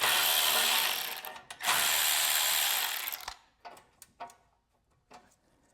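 A hand ratchet loosening 7/16 bolts on the carburetor of an Ariens 624 snow blower: two long, loud bursts of rapid clicking, then a few short separate clicks and taps fading into quiet.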